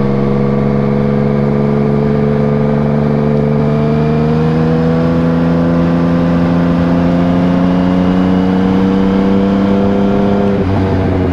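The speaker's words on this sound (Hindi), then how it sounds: "बाइक को मैंने स्टार्ट करके छोड़ दिया थोड़ी देर गर्म होने के लिए" A motorbike engine idles steadily while warming up after being started, a loud, close, even drone that rises slightly in pitch and then drops near the end, with no voices.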